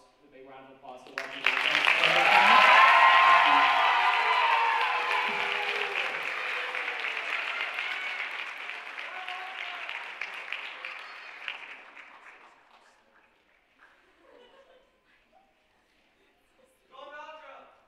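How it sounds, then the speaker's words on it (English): An audience at a high school winter chorus concert bursts into loud, sustained applause that peaks early and gradually tapers off to scattered claps, with faint voices at the end. "If you could join me, please, in celebrating their hearts with a big round of applause."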